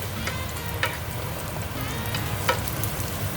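Garlic fries briefly in a pan with a continuous close sizzle and a few scraping stirs, the steady hiss loud and alone without talk.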